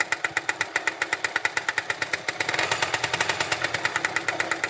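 Small Suzuki 125 two-stroke motorcycle engine with a makeshift exhaust, idling close up with a rapid, even popping beat that grows fuller and busier halfway through as it is revved slightly.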